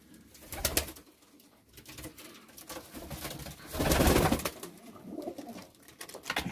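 Pigeons coo in a coop, soft repeated throaty calls close by with a louder burst of cooing and rustling midway, no talking.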